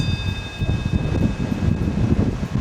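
Strong, steady wind in Lisbon, Portugal buffeting the microphone with a low, rumbling roar and gusty surges throughout, no voices present.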